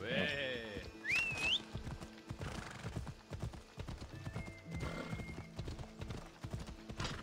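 Rhythmic clip-clopping horse hooves trot steadily throughout in Assassin's Creed Odyssey, with a horse's whinny near the start and faint game sounds underneath.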